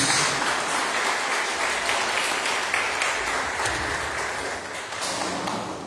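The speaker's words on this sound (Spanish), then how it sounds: "le demos un aplauso fuerte al Señor" Steady, dense applause from a large church congregation during a Sunday service, sustained and even throughout with no voices standing out.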